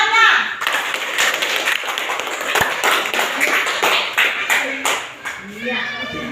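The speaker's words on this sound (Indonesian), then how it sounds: "Oke, tepuk tangannya." Children in a classroom clap their hands in a loud burst of sharp, irregular claps, some near and some farther off, with a voice and other talk mixed in toward the end.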